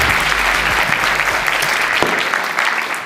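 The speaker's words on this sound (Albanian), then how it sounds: "me një duartrokitje të fuqishme" A studio audience at a comedy show breaks into strong applause, dense, steady and loud clapping from a crowd that fades slightly near the end.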